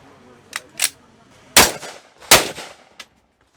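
A handgun fires at an outdoor shooting range, with two loud, sharp reports about a second apart, preceded by a couple of lighter metallic clanks.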